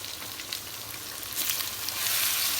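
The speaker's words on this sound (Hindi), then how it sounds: "ऑयल वही मैं यूज़ करूँगी जिसमें मैंने बैंगन को फ्राई किया था, वही ऑयल हम इसके अंदर डालेंगे" Hot oil left over from frying aubergine pours over onions in a pan over high heat, making a dense, loud hiss that builds a little toward the end. No voices are heard.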